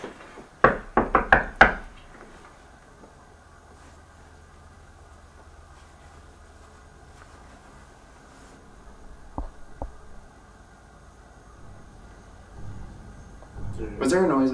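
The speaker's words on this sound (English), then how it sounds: "Let me go ahead and knock on something for that." A quick burst of several sharp knocks on a wooden surface opens a quiet indoor space, followed by long stillness and a few fainter bumps later.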